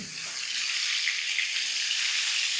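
New potatoes for Kashmiri aloo dum fry in hot oil, giving a loud, even, continuous sizzle close up, heard alone without talking.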